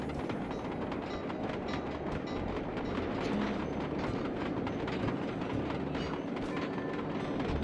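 Train rolling along the tracks in the video game Sly Cooper 2, a steady loud clickety-clack of wheels over rails with a constant rumble throughout, no voices.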